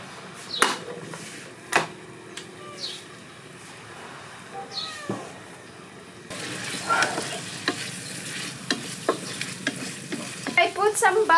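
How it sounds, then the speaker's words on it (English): Eggs frying in butter in a pan: a soft sizzle with occasional utensil clinks and scrapes that swells into a fuller, busier crackle in the second half, heard close with faint background bird calls. "I put some butter to our egg today, so it's gonna be more delicious than usual."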